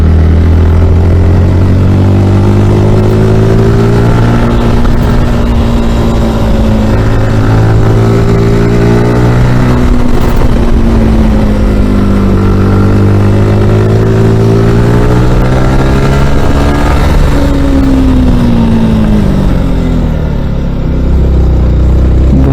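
A Yamaha R15 motorcycle engine runs close and loud, its pitch rising and falling through several revs as the bike rides along, with no voices over the continuous drone.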